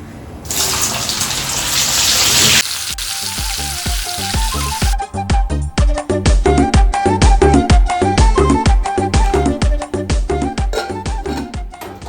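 Sweet corn kernels deep-frying in hot oil give a loud, dense sizzle for a couple of seconds before music with a strong beat takes over the rest of the clip.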